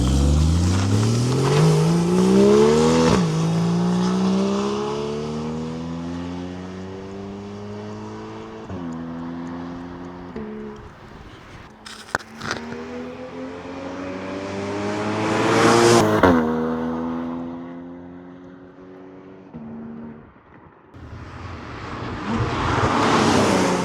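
The six-cylinder engine of a Porsche 981 Cayman pulls through several gears while driving, its tone climbing steadily and dropping sharply at each shift, then swelling into a louder rev and easing off, heard from inside the car.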